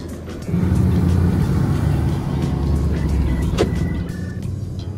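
Mercedes E63 AMG V8 heard from inside the car while driving, a steady low engine drone and road rumble that swells slightly, with a short whine midway.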